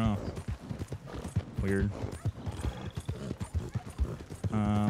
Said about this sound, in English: I can't control my horse very well.